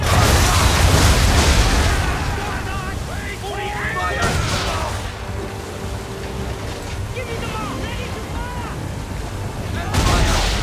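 Ship cannons fire during a naval battle in Assassin's Creed 3, with heavy booming blasts at the start, middle and end over rushing sea and wind. Voices shout between the volleys.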